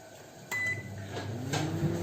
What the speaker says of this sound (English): My microwave has been preheated. Now I will bake it for 39 or to 40 minutes.